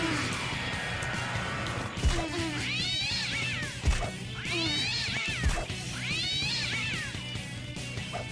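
Cats meowing in the Devil Summoner video game, three drawn-out wailing meows in a steady rhythm over continuous game music, with a few sharp thuds between them.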